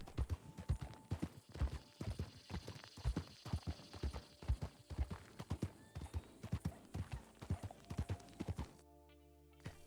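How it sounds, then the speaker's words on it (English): Rhythmic hoof clip-clops in the game RedM, a horse walking at a steady pace, with clear knocking beats throughout before everything stops abruptly. "Heard the horse."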